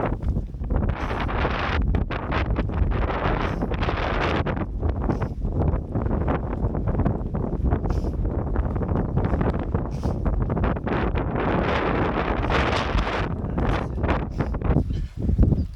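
Strong mountain wind on a Seoraksan ridge roars and buffets the microphone in continuous loud gusts with heavy low rumble and no voices.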